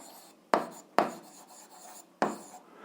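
Short rasping strokes of a pen or chalk writing out a math solution, three distinct scratchy bursts with quiet gaps between, close and fairly faint.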